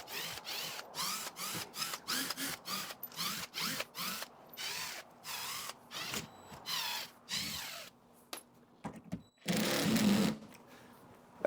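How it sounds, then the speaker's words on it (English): A power driver backs a screw out of a rotted hatch as the screw head begins to strip, giving repeated short, close whirring bursts with brief gaps and one longer, louder burst near the end. "Started to strip out that screw."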